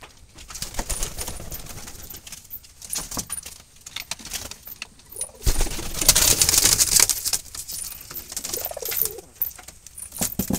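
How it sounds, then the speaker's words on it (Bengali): Cooing of Jalali wild pigeons, including a six-month-old male of a long-distance breed, heard close and intermittent amid jangling keys and handling clatter. "এটা একটা নর কবুতর, তার বয়স 6 মাস চলছে"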